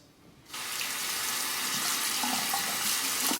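A tap bursts on after a short quiet moment and water pours steadily as a straight razor is rinsed beneath it, a close, bright splashing rush that holds to the end.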